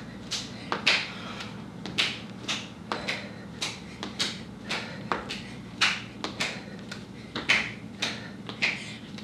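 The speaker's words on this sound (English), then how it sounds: "We're gonna clap up, clap under your knee, up over your head" Sharp single hand claps repeat in a steady workout rhythm, roughly one every half second to second, close and clear over a low background hum, during a beginner boot camp exercise clapping overhead and under the knee.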